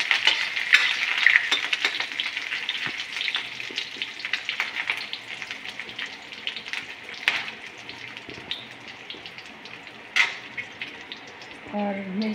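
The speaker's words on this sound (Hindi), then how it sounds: "अदरक लहसुन का पेस्ट अच्छे से भून ले रही हूँ" Ginger garlic paste with whole spices frying in a pan for baingan bharta, a continuous bright sizzle with frequent scraping stirs and clinks, close up, a faint voice briefly near the end.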